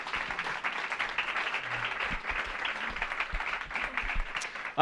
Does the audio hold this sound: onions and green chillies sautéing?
no